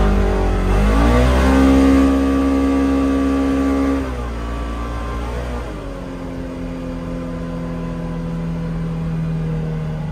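A 2024 Polaris Xpedition XP 1000 side-by-side revs hard in sport mode, its engine note rising sharply, holding loud for a few seconds, then dropping back and settling into a steadier idle-like drone, close and with no talk.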